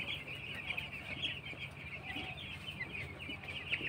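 Five hundred six-day-old broiler chickens in a poultry shed make a faint, continuous chorus of peeping and clucking that never breaks.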